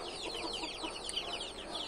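Chickens cluck in a quick run of short, bright calls, close and fairly loud, with no talk over them.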